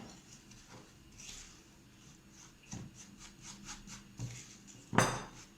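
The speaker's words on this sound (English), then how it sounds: "Let's mix really well." A utensil scrapes and clinks against a bowl while mixing a shrikhand cheesecake base of crumbs and melted butter to a sandy texture, with soft irregular rubbing strokes and a sharper knock at the end.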